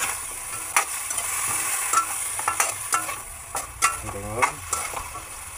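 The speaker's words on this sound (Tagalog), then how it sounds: "Halu-haluin lang natin." Food is stirred in a hot wok, with repeated scraping strokes over a continuous sizzle and a brief word spoken partway through, close and moderately loud.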